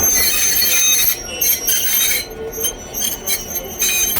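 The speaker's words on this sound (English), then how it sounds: "That's just our locomotive's way of easing into the turntable." Steam locomotive NC&St.L 710 easing onto the East Chattanooga turntable at Soule Shops, its wheels letting out a loud, continuous high metallic squeal that pulses and wavers over a few seconds.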